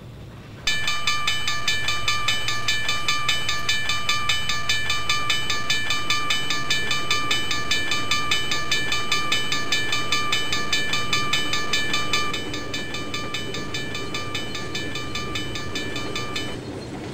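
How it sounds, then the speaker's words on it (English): Rail car running along the Carrabassett Valley Railroad track, a steady continuous rumble overlaid with a sustained high-pitched metallic squeal that holds for most of the clip, easing slightly toward the end. "the rail car sounds bad"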